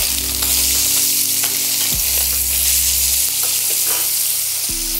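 Cod sizzles and spits steadily in a frying pan alongside cauliflower, a loud continuous frying hiss with occasional stirring, with no talking.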